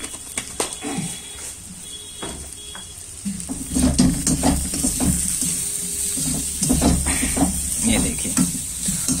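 Gobi Bhujiya fries with spices in a pan, a soft sizzling hiss broken by stirring scrapes and clinks, growing fuller partway through, with a person talking at times.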